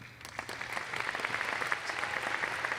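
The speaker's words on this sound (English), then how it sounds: "please make a round of applause and make some noise for Ohio's Mr. Gary Hill." Audience at a national jump rope championship awards ceremony applauding, scattered claps swelling into a fuller round of clapping that builds over a couple of seconds in a large hall.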